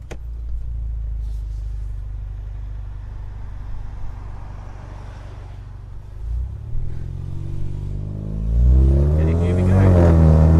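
Ford Mustang EcoBoost convertible in track mode pulls away toward Mount Panorama, its engine idling steadily before revving hard and climbing in pitch as it accelerates, loud and close throughout.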